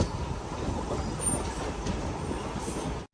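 Steady, muffled rolling rumble of a train easing into Kundapura railway station, continuous and even throughout, ending abruptly.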